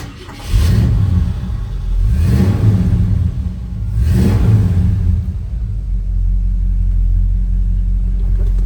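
A 1968 Ford F-100 Ranger with a 390 four-barrel V8 and C6 automatic starts up close by and rumbles loudly through three rising revs before settling into a deep, steady idle.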